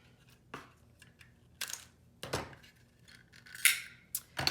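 Vintage 1980s label tape cut with scissors in several sharp, close snips separated by brief pauses, with faint handling noises between the cuts.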